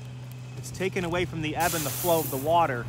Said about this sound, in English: They're drilling a well right up top on the top of the shoreline.